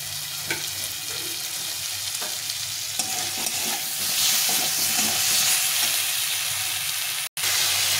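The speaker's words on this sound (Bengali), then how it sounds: "আলুগুলো ভেজে রেখেছিলাম, সেই আলুগুলো দিয়ে একটু নেড়ে চেড়ে নেব।" Fried potatoes are stirred in a pan while cooking a fish curry, giving a steady close sizzle and crackle broken by soft scraping stirs and a few clinks of the utensil, with no talking.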